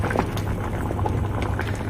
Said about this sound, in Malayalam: ഇത് നല്ലോണം തിളച്ച് തുടങ്ങിയിട്ടുണ്ട്.